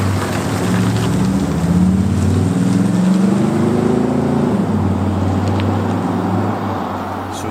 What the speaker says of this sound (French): Je trouve qu'entre 1200 et 2000 tours minute, c'est un peu bruyant quand même.